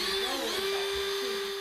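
A power drill whines at a steady, sustained high pitch, close and loud, running continuously without pause and with no speech.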